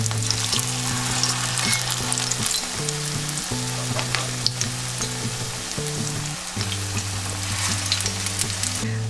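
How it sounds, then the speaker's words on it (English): Vegetable latkes fry in an oil-filled pan, giving a steady, close, dense sizzle with crackling spatter that runs unbroken throughout, with no voices. "while you're frying these, make sure that you don't overcrowd the frying pan"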